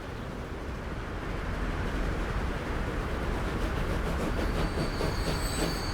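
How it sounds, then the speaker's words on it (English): A passenger train rolls into a station in the video game Transport Fever 2, with a steady broadband rumble and wheel noise, faint rhythmic clacking, and a thin high squeal appearing near the end as it slows. "Here comes a train."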